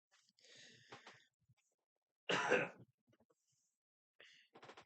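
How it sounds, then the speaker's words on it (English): A single loud, harsh cough bursts out between stretches of soft, quiet talking. "I had to cough."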